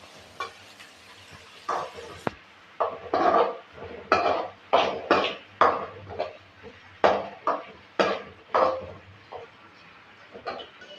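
Onions stirred in a cooking pot for a chicken kulambu, with a spoon scraping and knocking against the pot in a steady series of strokes over a soft sizzle.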